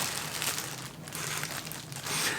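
A plastic bag wrapped around a Ludwig snare drum crinkles and rustles as it is opened, a close, soft, irregular crackling with brief pauses.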